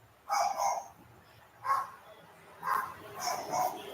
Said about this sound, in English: Can you hear the dogs too? They're barking.